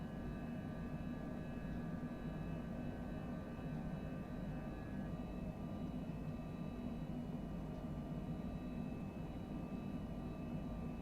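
A steady drone of an airplane engine in Microsoft Flight Simulator 2020, a constant low rumbling hum with faint tonal whine, even and unbroken, fairly quiet with no voices.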